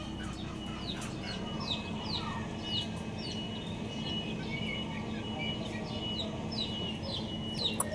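Hens cluck and chirp in short bursts over a steady outdoor morning rumble, with scattered bird calls throughout.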